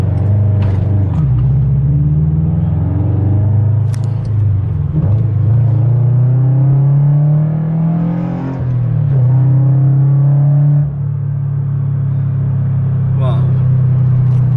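A Subaru BRZ with a freshly installed clutch accelerates hard, the engine rising in pitch through several gear changes, each shift marked by a brief dip before the revs climb again, heard from inside with someone speaking.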